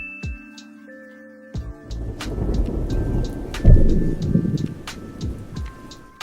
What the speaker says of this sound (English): I finished up the storm outside by adding some rain particles and a periodic lightning flash on random intervals